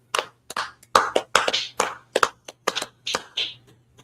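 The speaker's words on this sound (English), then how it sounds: "We'll first clap it up." People clapping their hands in a room, a series of sharp, uneven claps in quick bursts over about four seconds, close and loud, with no talk.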